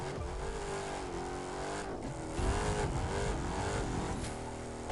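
Video game engine from The Crew 2, a racing-style motor droning and revving with shifting pitch, briefly surging louder midway, loud and close with no talking.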